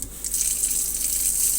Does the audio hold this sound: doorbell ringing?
no